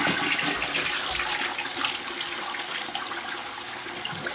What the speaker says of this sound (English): Good flush on that.